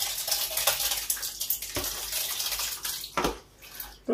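Water runs steadily into a fermentation tub holding crushed fruit pulp for home winemaking, a continuous rushing pour with a brief surge partway through and another near the end.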